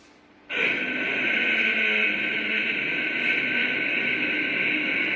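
A long, steady breath pushed out through one nostril during yoga alternate nostril breathing, close and hissing, beginning abruptly and holding evenly for several seconds with no talking.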